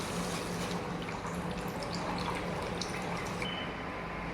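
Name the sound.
water poured into cooking spices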